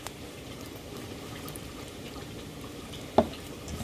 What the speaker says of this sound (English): Now you're going to add your water to the bowl, into the flour.